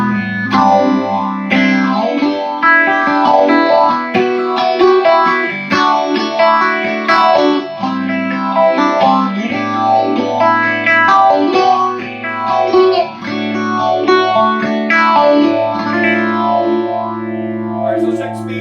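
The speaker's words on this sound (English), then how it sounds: "So the other cool thing about this amp is the phaser." An electric guitar played through a Music Man HD-150 amp with its phaser on, a steady flowing run of notes and chords with a sweeping, swirling tone, loud and continuous with no talk.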